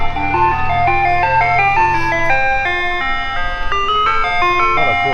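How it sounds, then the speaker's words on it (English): Ice cream truck driving by on a small-town street in Warsaw, Kentucky, its loud looping chime melody playing continuously and close, with a low engine hum beneath. "there's the ice cream truck. He's coming by."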